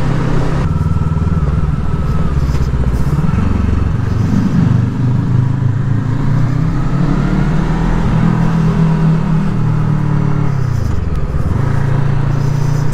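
Engine of a Voge 500 R motorcycle droning steadily while riding, with a loud, resonant low hum that rises and falls with throttle and carries road and wind noise.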